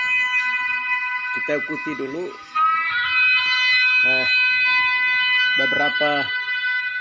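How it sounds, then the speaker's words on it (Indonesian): A long, steady blaring trumpet blast from a recording, a sangkakala, sounds throughout at moderate loudness while someone speaks over it in several short phrases. "kita akan dengar sangkakala yang akan berbunyi"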